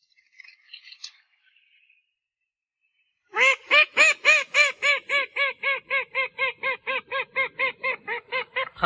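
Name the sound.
call duck loudly quacking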